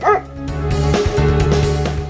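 Rescue dogs bark at a kennel, a rapid run of loud close yips and barks with whimpering tones overlapping throughout.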